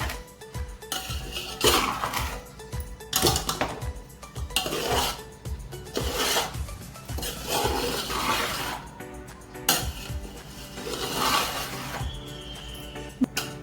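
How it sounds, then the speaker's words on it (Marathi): Rice with finely chopped onion being stir-fried for veg fried rice in a large kadhai, a spatula clanking and scraping against the metal in a steady rhythm of repeated strikes, close and fairly loud with no talk. "आता आपण हा राईस एक मिनटं परतवून घेऊया"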